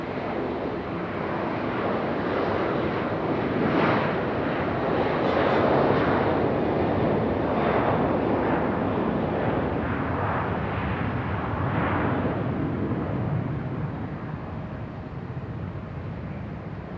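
An airliner arrives at Raleigh-Durham International Airport with a loud, sustained jet roar that swells as it passes nearby and then slowly fades, with no one speaking.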